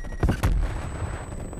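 Gold M1911 pistol in Call of Duty: Cold War, two sharp close gunshots in quick succession followed by a short fading tail.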